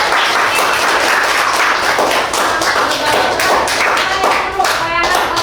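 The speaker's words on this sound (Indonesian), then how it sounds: "Kasih tepuk tangan buat kelompok" A classroom of students claps for a group that has just presented, a dense and steady round of applause that holds for several seconds.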